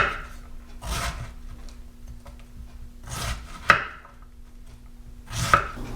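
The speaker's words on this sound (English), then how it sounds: "So now I'm just going to thinly slice the cabbage about 1/4 inch thick." A knife thinly slicing red cabbage on a cutting board makes a few separate crunchy cuts spaced a couple of seconds apart, close up, with quiet pauses between them.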